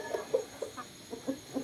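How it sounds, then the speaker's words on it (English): Hens, mostly Rhode Island Reds, cluck close by in a quick series of short, clipped calls, about half a dozen in under two seconds. "We have a lot of hen here."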